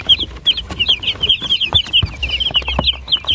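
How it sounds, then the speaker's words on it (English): Chickens and small baby chicks at a Jamaican chicken stall, with steady high peeping and clucking running throughout and a few soft low thumps underneath, close by and without talk. "here are the chickens"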